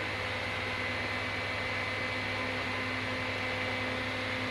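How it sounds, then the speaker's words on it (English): Small electric fan running to speed the drying of false eyelash glue, a steady, faint whirring hum with a faint tonal drone, continuous and alone for several seconds with no talking. "So I have like a fan which will fasten the process."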